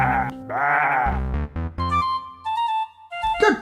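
A sheep bleats loudly and close by in several wavering, drawn-out calls, alone with no talk over it.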